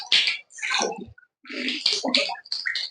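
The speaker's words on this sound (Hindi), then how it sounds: "उसके बाद हम कुल्ली करेंगे।" Water splashes in bursts as the mouth is rinsed during ritual ablution, a few close wet sloshing pulses separated by brief pauses, with no talk.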